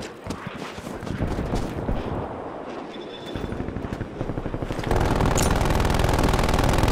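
Hostile sentry turret in Call of Duty: Black Ops Cold War Hardpoint match, rapid automatic gunfire in fast repeated bursts, moderately distant and growing louder toward the end amid other battle noise.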